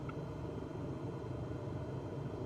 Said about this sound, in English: This plane sounds like she's struggling.